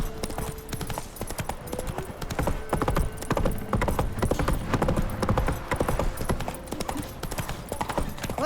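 Hooves of Roach, Geralt's horse in The Witcher 3, pound out a fast, steady galloping rhythm, loud and close throughout, over faint game ambience and a brief tonal sound early on.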